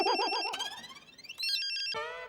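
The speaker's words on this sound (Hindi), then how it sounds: "नाश्ता करने बैठे नहीं, अंजलि का फोन आ गया।" A mobile phone rings with a warbling electronic tone, followed by a rising melodic ringtone jingle, fairly loud and alone, without talking.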